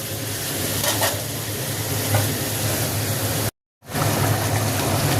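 Lightly fried fish slipped into boiling curry: a steady loud bubbling sizzle with a few soft splashes, briefly cutting to silence before the boil resumes.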